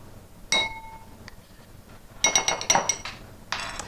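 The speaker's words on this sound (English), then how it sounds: "Then whisk that together" A whisk clinks against a glass bowl as the lentil salad vinaigrette of oil, garlic, oregano, parsley, salt and pepper comes together. A single ringing tap comes first, then a quick run of bright metallic strikes and one more clatter.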